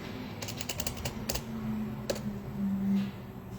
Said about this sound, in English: I'm typing Barbers in the search bar and see what pops up.